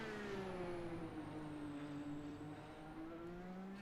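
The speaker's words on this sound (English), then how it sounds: "You can hear the turbos" The engine of a Dallara DW12 IndyCar at Silverstone in a sim racing game runs at low revs, its pitch sweeping smoothly down and back up, with a faint high turbo whistle above a quiet, steady drone.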